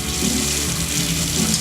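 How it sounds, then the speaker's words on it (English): Water running steadily from a tap into a sink during face shaving, a continuous broadband rush with no talk over it. "It might get a little noisy because of all the water"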